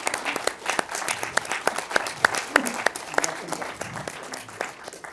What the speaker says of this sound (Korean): 그래서 박수로 한번 인사 좀 박수 좀 부탁드리도록 하겠습니다.